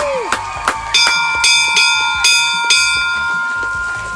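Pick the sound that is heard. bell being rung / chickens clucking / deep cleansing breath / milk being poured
bell being rung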